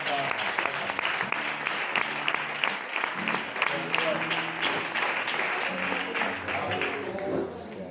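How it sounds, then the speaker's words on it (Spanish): A church congregation applauds steadily and loudly for the full stretch, dense clapping with shouts and voices mixed in, fading slightly at the very end. "Un fuerte aplauso para Dios."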